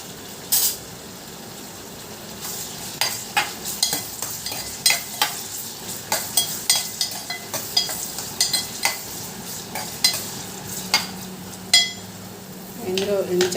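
Fried onions and tomatoes stirred in a pan for brinjal curry, repeated sharp spoon scrapes and clinks against the pan in an uneven rhythm over a steady frying sizzle.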